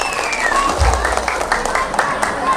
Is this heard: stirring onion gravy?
no